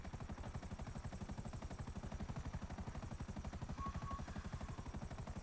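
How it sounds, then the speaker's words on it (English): A helicopter flies in GTA 5 Online, its rotor chopping in a fast, steady pulse that stays loud and continuous throughout, with a brief tonal whine partway through. "I like the helicopters in the game, though."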